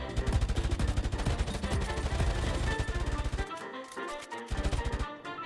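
Rapid gunfire bursts in the video game Unturned during a raid, dense automatic shots that keep up for several seconds before breaking into a few scattered reports, loud and up front.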